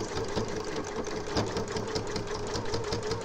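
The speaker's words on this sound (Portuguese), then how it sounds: "eu vou costurando pezinho de máquina" A sewing machine stitches steadily along the edge of a fabric zip pouch, a fast continuous mechanical whirr and patter that is close and fairly loud, with no voice over it.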